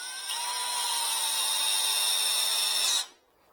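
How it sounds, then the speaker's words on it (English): A drill whines steadily against a wet end grain wood bowl on the lathe for about three seconds, then stops abruptly into near silence. "Try to stop without putting too much pressure with the drill"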